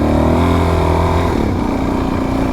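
A Suzuki DRZ400 dirt bike engine pulls hard on a trail, its close, loud throaty drone rising in pitch and then settling as the bike takes off and levels out.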